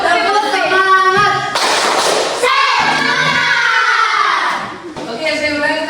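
Schoolchildren in an Indonesian primary classroom doing a counted spirit clap, loud rhythmic clapping in bursts amid excited shouting voices and a crowd of young children.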